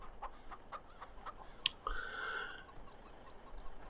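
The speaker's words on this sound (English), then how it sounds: "So you've got a few chickens that are sort of around" Chickens cluck in a video game: a string of soft, evenly spaced clucks, then a sharp click and a longer drawn-out squawk, all faint against a quiet background.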